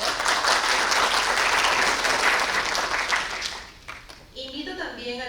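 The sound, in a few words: audience applause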